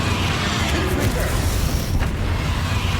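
A Confringo fire spell blast from the Hogwarts Legacy game erupts in a dense, booming roar of continuous combat noise, with a faint voice buried underneath.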